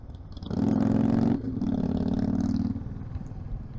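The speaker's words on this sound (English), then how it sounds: "That's the exhaust of a Harley Davidson." Harley Davidson motorcycle exhaust rumbling nearby on a hill road near Kotagiri, a loud steady throaty drone that swells, eases slightly, then holds under road noise.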